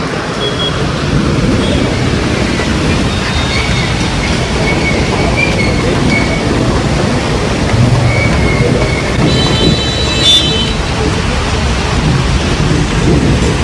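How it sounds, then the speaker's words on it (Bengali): Heavy rain pours down steadily in a dense, loud roar with a distant rumble of thunder, continuous throughout with no voices. "ঝমঝম করে বৃষ্টি হচ্ছে।"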